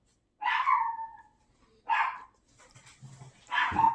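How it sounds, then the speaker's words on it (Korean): A dog barks three times in short, sharp, fairly close bursts spaced a little over a second apart, with a faint whimpering tone between barks and no talk. "이 개가 짖어가지고 말이죠"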